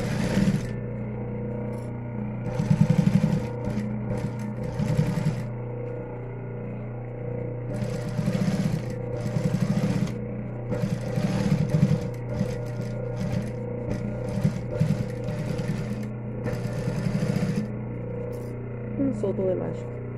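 A sewing machine stitches close to the edge of a 3D fabric face mask, giving a steady mechanical hum with short bursts of rapid needle chatter, heard under someone talking.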